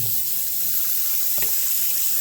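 Water runs steadily from a tap to fill a container for soaking sharpening stones, a constant close hiss with a faint clunk partway through and no voices.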